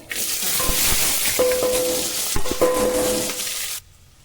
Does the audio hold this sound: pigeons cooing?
no